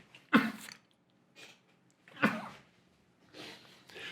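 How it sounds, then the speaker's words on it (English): A person sneezing indoors, several sharp close bursts spaced about two seconds apart, each followed by a short breathy tail, with no talk between them. "I need to sneeze."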